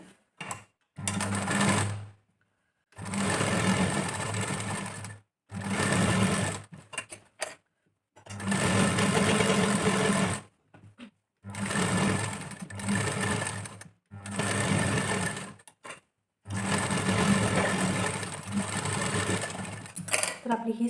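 A sewing machine stitches sleeves onto a princess-cut blouse in several loud bursts of a few seconds each, separated by short silent pauses.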